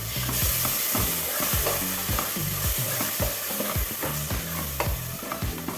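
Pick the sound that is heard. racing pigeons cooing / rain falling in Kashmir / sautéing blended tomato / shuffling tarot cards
sautéing blended tomato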